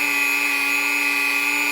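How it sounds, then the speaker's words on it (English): A Dremel rotary tool spinning a sanding sponge, steady high-pitched whine with a constant tone, close and continuous with no talk. "it's best to use a fresh sanding sponge in your Dremel"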